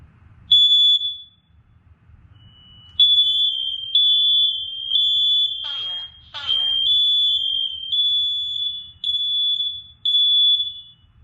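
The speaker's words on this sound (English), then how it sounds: "You're gonna hear the rest of them in the house sync up because the red wire is hooked" Interconnected household smoke detectors, hardwired with a red interconnect wire, beep in unison: loud, high, piercing tones in a steady repeating pattern with short gaps. A brief voice is heard in the middle.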